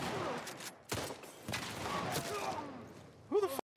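Gunfire in The Last of Us, sharp loud cracks at several points amid in-game voices talking, with a brief burst of activity near the end.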